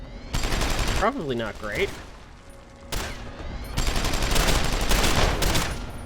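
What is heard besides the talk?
enemy gunfire in the video game Deus Ex: Human Revolution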